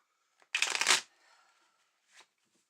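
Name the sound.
shuffling a deck of cards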